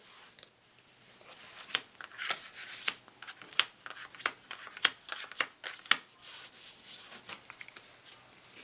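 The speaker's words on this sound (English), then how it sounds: "take your deck, set it off to the side, take your Sovereign, set that off to the side as well, and then draw 7 cards for your hand" Collectible cards for a Kingdoms game are handled and drawn from the deck, producing a quiet series of crisp close snaps and slides in an uneven rhythm, with no voices.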